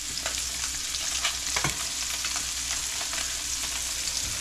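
Fish fries in a hot pan with a steady, close sizzle and scattered crackles and pops throughout, no voices over it.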